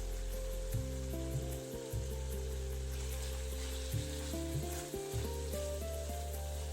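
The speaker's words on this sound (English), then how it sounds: "Now, stir the sabji and besan well so that they combine properly." Besan and chopped sabji sizzle and fry steadily in a hot pan for shimla mirch ki sabji, with occasional scraping stirs breaking through a constant close hiss.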